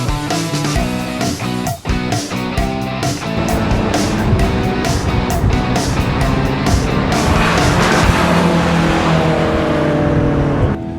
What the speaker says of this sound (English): Listen to that engine note. It's fantastic.